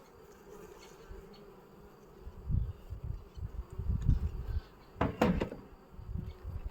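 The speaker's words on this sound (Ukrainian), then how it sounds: "Але рій вже тут дві неділі у цій ройниці вже сидить." A honeybee swarm buzzing inside a wooden swarm box, a low droning hum close by that swells in uneven bursts, with a sharp knock or creak of the box partway through.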